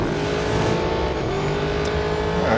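Aston Martin Vantage engine heard from the bumper camera in the Real Racing 3 racing game, a steady loud drone with layered harmonic tones that shift slightly as the car holds speed, no talk.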